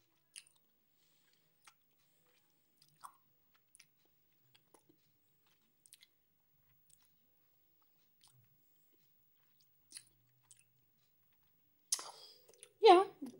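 Someone chews Christmas chocolate up close, with sparse, faint, sticky clicks and smacks spread over quiet stretches, growing louder and denser near the end.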